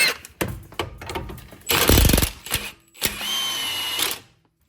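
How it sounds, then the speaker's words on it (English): An impact gun works a 17mm nut on a Toyota Sienna front strut in loud, close, rattling bursts: several short hammering blasts, then a longer burst that cuts off cleanly. "Hopefully the gun just pops it right out."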